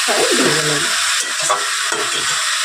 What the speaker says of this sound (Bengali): একটু ভেজে নিলে সাদা তেলে ভাজবো না এরমভাবে পেঁয়াজের সঙ্গে